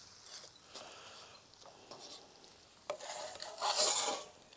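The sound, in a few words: tomato paste frying in pan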